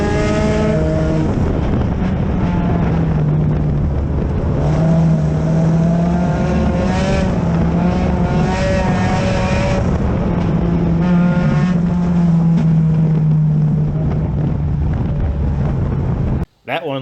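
Race cars roar around a dirt track, a loud continuous engine drone with rising and falling pitch as they pass, wind buffeting the microphone and voices talking faintly underneath.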